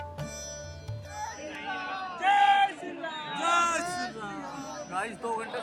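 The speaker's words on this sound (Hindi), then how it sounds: "मेरे पीछे आप भीड़ देख सकते हो, कितनी भीड़ है।" Large crowd of devotees at the Ayodhya Ram Mandir, a dense mix of chanting, shouting and cheering voices at close range, with rising bursts of loud collective calls over a continuous hubbub.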